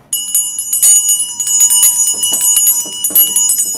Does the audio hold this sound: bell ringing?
yes